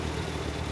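A tractor engine runs steadily at close range, a continuous low rumbling drone without breaks or voices.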